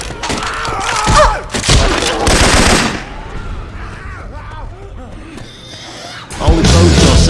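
Video game gunfire from Left 4 Dead 2 using Syphon Filter weapon sounds: loud rapid bursts and heavy thuds in quick succession, with a short lull in the middle before another close burst, voices talking over parts of it.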